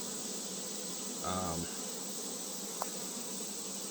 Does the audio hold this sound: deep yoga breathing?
no